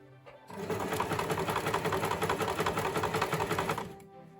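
A sewing machine stitching bias binding onto the edge of a sleeveless top, starting with a reverse stitch, runs in one close, rapid burst of even mechanical stitching for about three seconds before stopping.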